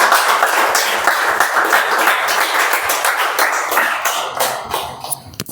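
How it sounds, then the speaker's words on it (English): An audience at a Toastmasters meeting claps for the table topic master, a dense burst of applause with sharp individual claps that fades toward the end. "Can we have a better round of applause for our Toastmaster of the day, Toastmaster Prashant, everybody?"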